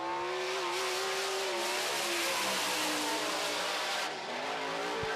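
Sprint car engine at full throttle on a time trial lap at Grand Forks, North Dakota, a steady high-revving drone heard from a distance that fades slightly near the end.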